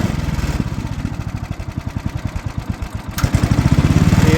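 An Ariens snowblower's cold engine idles unevenly with a steady rapid put-put clatter, close and loud, briefly dipping before picking up again.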